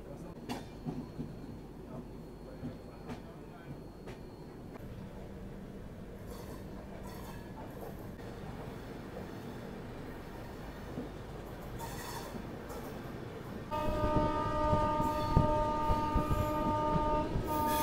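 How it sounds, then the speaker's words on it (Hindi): Bihar Sampark Kranti Superfast Express standing at a station platform, with steady rail-yard rumble and bustle, then a louder sustained horn-like tone joining the noise over the final few seconds. "प्लेटफॉर्म नंबर 5 पे खड़ी है सप्त क्रांति सुपरफास्ट एक्सप्रेस।"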